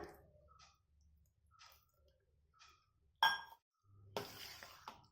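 A spoon stirs curd rice in a vessel, giving faint, sparse clinks and scrapes against the pot with a couple of sharper metallic taps in an otherwise quiet kitchen.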